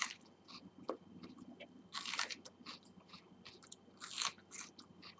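Someone bites into and chews raw onion right at the mouth, with crisp crunches and wet, squishy chewing in an irregular rhythm and louder snaps at intervals, heard alone without talking.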